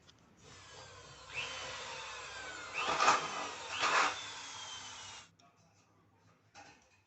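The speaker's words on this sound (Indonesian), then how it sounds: "kemudian kita bor dan kita kunci dengan rivet." A drill bores through a lightweight steel hollow profile for a DIY shelf, ready for rivets: a steady high whine runs for several seconds, rising into two louder grinding bursts as the bit bites, then stops.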